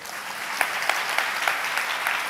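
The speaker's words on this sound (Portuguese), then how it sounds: "Pode aplaudir." A church congregation at a Baptist service applauds steadily for a couple of seconds, dense broadband clapping with a few sharper individual claps standing out, no voices over it.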